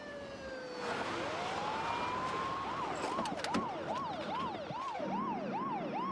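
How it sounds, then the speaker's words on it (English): An ambulance siren rises into a fast, repeating wail, steady and fairly close over constant road noise, with no talking. "I seen the ambulance coming down the other side,"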